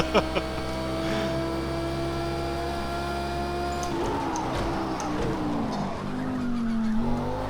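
A GT3 race car in the Project Cars 2 driving game carries a steady engine drone through a corner, with tyre scrub and rising squeal building in the second half while the engine note shifts.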